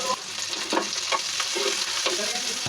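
Whole cloves, cardamom, cinnamon, bay leaves and chopped onion fry in hot oil, a close, steady sizzle broken by rhythmic scrapes and clacks of a spoon stirring the pan, with no voices.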